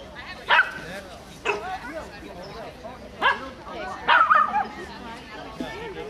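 A dog barks and yips in short, separate bursts, about five sharp calls spaced unevenly, close and loud, with whimpering tones between them and a murmur of people in the background.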